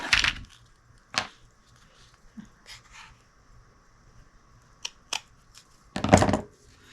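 Scissors snip through paper while making a Valentine gift heart banner, with a few crisp, close cutting bursts spaced apart over a quiet room background.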